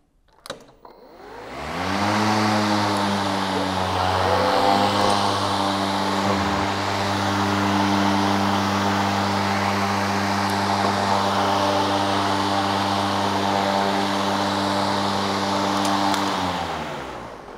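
An Einhell cordless battery lawn mower starts with a click and spins up quickly into a steady, loud motor-and-blade whine with a low hum, running continuously before winding down at the end.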